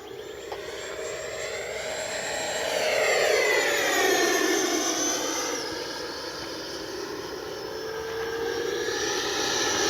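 An E-flite Viper 90mm RC ducted fan jet flies past with a steady, high-pitched turbine whine that rises and bends in pitch as it swoops closer, swelling louder in the middle before easing back, with no talk.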